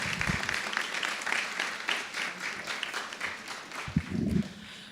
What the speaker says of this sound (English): So would you please give her a round of applause?